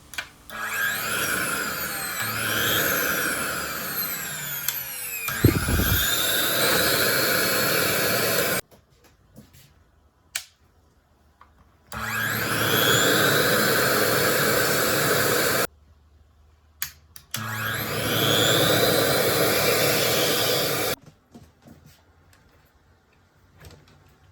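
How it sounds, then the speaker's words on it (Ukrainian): A professional air compressor for inflating balloons, run in pulse mode so air flows only while the nozzle is pressed, gives loud sustained blasts of rushing air in three long bursts separated by quiet gaps with small clicks. "Показуємо перший режим імпульсний. Подача повітря відбувається тільки при натисканні на насадку."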